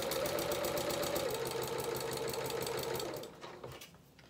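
A sewing machine stitches a princess seam on a dress bodice, a fast steady mechanical hum and rhythmic needle chatter running close and loud before slowing and stopping near the end.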